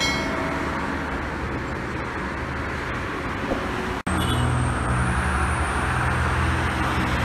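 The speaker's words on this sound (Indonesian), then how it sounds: "Narendra Scania K410 menuju ke Ponorogo." A Narendra Scania K410 bus heading to Ponorogo passes at the KM 429 Ungaran rest area. Its loud, steady engine rumble fills the clip amid roadway noise, with a brief sharp break midway before the drone resumes.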